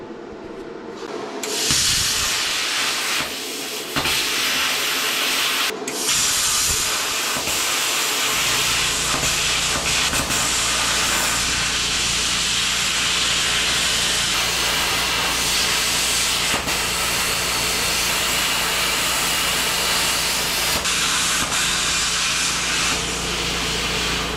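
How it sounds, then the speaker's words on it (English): A plasma cutter slices through metal on a Toyota Land Cruiser FJ40 during a power steering install, a loud, continuous, harsh hiss that holds steady for the whole stretch, with no voices. "let's see if the plasma cutter will help with this"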